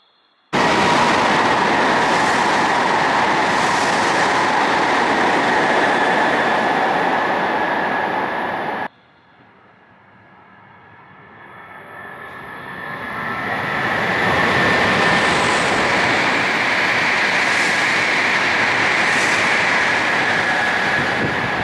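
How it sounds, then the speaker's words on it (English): A Japanese high-speed train roars past at close range, a loud, sustained rush that cuts off abruptly. After a short quiet gap, a second pass builds steadily to an equally loud roar with no voices over it. "Should be a train roaring through here in a second."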